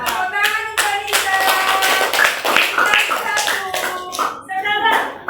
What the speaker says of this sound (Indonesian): Tepuk tangan Mbak Nisa